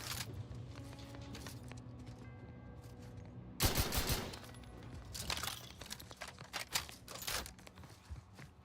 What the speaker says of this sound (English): Sawed-off heavy machine gun.